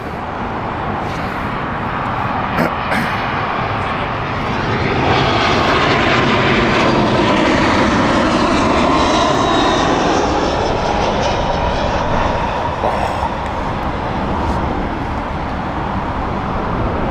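An SAS airliner passing at Heathrow Airport, its engine roar swelling loud and near, then easing slowly into a long, steady rumble with a gentle sweeping shift in tone.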